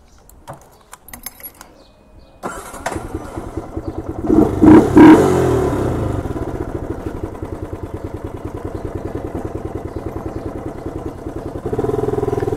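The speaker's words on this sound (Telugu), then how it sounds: "సో ఇప్పుడైతే మన R15 బైక్ మీద మనం షోరూమ్కి వెళ్తున్నాం" A Yamaha R15 motorcycle starts up after some jingling and clatter, revs, and settles into a steady close engine rumble with rhythmic pulsing as it rides along the road, growing slightly louder near the end.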